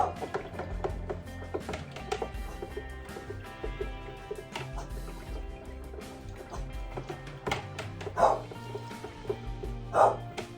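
A dog barks indoors in a home where wine is being brewed, a few sharp scattered barks, louder near the end, amid clattering handling noises.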